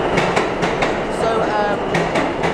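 A New York City subway train rumbles and clacks steadily along the rails, with rhythmic wheel clicks and faint squeals. Loud and close from inside the moving car, with a little background chatter.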